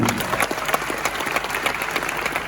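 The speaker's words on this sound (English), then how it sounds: "Oh, if you're clapping, clap roll" An audience at a trading seminar breaks into a short burst of dense clapping, fairly close and steady for a couple of seconds.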